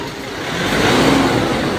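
A Nissan YD25 DDTI 2.5-liter turbocharged diesel in a pickup truck revs steadily, a broad rough engine roar that swells slightly and holds near and loud with no voices.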